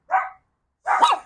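A dog named Zadie gives two sharp barks indoors, the second longer and rougher, separated by a short silence.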